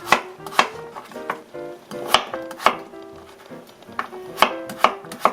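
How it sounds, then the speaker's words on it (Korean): A knife chops potatoes steadily on a cutting board, with sharp, close strikes in an uneven rhythm and faint kitchen clatter. No one speaks. "썰어주시면 됩니다"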